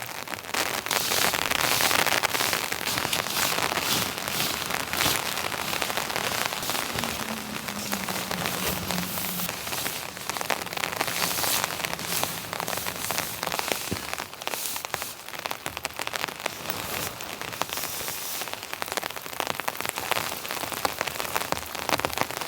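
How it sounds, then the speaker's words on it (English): Dense, steady patter of heavy rain drumming on a taut winter hot tent overhead, close and loud, with crackly drops throughout and no talking. "Oh man, this rain's coming in."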